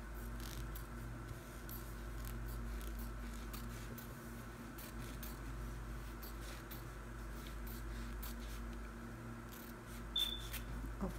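Scissors snip through fabric for a small sewing hanger loop, a string of quiet, irregular close cuts and rubs over a low steady hum, without speech.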